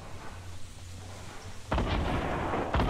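A rocket launcher in Fortnite fires with a sudden heavy boom partway through, followed by rumbling blast noise and a second burst near the end, loud and close over quiet game ambience.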